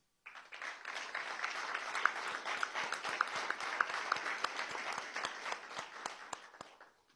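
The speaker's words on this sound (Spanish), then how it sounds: "Bienvenidos, sin más y con este aplauso, Javier Alexander Roa al Festival Mundial de Poesía de Venezuela." An audience at an evening gala of the Festival Mundial de Poesía in Venezuela applauds a poet's welcome, a full burst of clapping that swells quickly, holds steady, then tapers off near the end.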